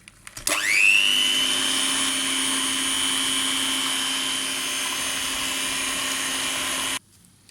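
An electric hand mixer whips a pastry cream mixture of sugar and starch. The motor whirrs up sharply, holds a steady high hum for several seconds and then cuts off abruptly, with no talking.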